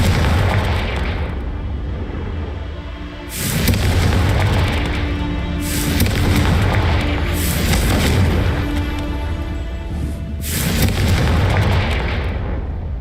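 Confringo fire spells go off in Hogwarts Legacy as a run of loud booming blasts, several spaced bursts, each with a rumbling tail that fades before the next.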